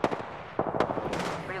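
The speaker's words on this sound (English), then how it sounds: "Firing." Rapid gunfire bursts in the video game Apex Legends, short sharp shots crackling close and loud with brief gaps between volleys.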